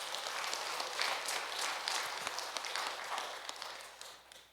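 A church congregation applauding during a Sunday worship service, a continuous broad patter of many hands clapping at moderate level, thinning slightly toward the end.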